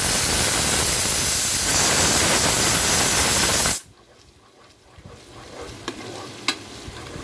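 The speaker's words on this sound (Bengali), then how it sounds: "এভাবে এখন মশলাটাকে আমি ভালোভাবে কষাবো" Spice paste being stir-fried in a pot for khichuri gives a loud, dense sizzling hiss that cuts off abruptly midway, leaving a quiet stretch with scattered stirring clicks and taps.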